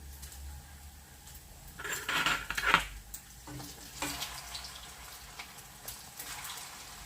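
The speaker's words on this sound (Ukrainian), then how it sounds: "Крайки поправляємо. І обсмажуємо з усіх сторін." Chicken sausages, homemade and skinless, frying in a pan while being turned; a soft continuous sizzle runs throughout, with a louder clatter of stirring or utensil contact midway and no talking.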